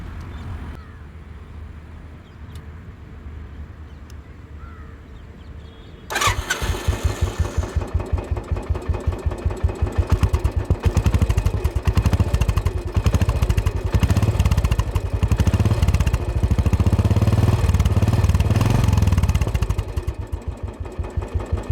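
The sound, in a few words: Royal Enfield Classic 500 motorcycle engine sound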